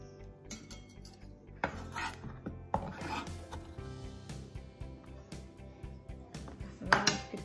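Knife slicing leaves into thin strips on a plate while cooking beef with green beans, sharp irregular taps and scraping clinks close up, with busy rhythmic cutting in the middle and a louder clatter near the end.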